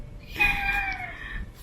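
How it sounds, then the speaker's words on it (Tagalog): A pet house cat gives one drawn-out, tonal meow lasting about a second, close and clear over a faint background hiss. "Ayan, yung pusa namin."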